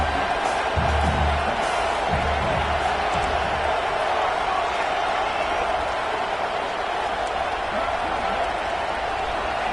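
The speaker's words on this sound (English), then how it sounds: "It's early, but this crowd is fired up. Listen to this noise here." Stadium crowd in the video game College Football 26 roars in a dense, steady wash of cheering and noise that stays loud and unbroken throughout.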